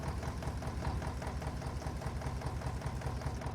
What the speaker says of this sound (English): This is a wicked little tractor.